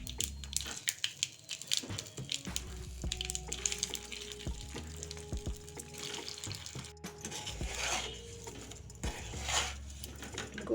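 Suji balls being stirred in a pan with red chilli powder, a utensil scraping and clinking against the metal in an irregular rhythm, with soft wet mixing sounds, close and moderately quiet.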